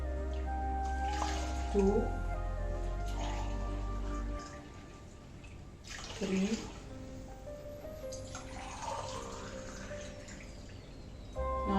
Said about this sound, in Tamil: பாசி பருப்பு, 4 கிளாஸ் தண்ணி ஊற்றலாம்